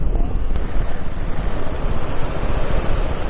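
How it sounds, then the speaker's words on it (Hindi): Rushing white water of a mountain river near Kaho village in Northeast India roars loud and constant, mixed with heavy wind buffeting, with no talk. "कितना सफेद पानी आ रहा है।"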